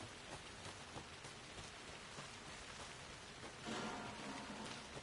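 Rain falling in the video game Alan Wake 2, a dense steady patter of drops on surfaces with scattered sharper taps and a brief swell near the end, fairly faint, with no talk.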